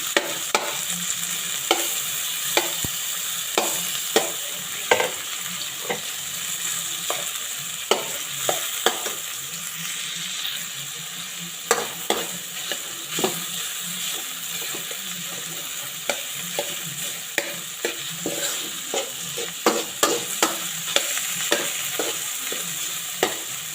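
Tomato sautéing in a home kitchen pan for a Bicolano stir-fried shellfish dish, a steady broadband sizzle broken by frequent sharp clicks and scrapes of stirring, close and continuous with no talking.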